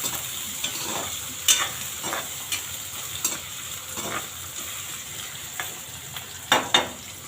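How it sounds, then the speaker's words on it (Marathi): Onion sautés in a pan for a sprouted moth bean dish, a constant soft sizzle punctuated by scattered scraping stirs of a spoon, close and without speech. "कांदा परतून घेऊ।"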